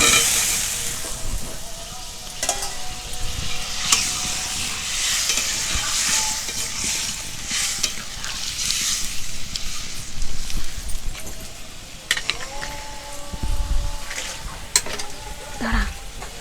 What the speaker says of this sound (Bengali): আলু ভাজা ছিল, আলুটা দিয়ে দেব।